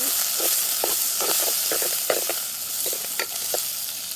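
Onions and curry leaves sauté in hot oil in a pan. A continuous close sizzle runs under repeated light scrapes and taps from stirring, with no talking.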